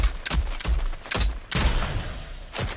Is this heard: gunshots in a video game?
yes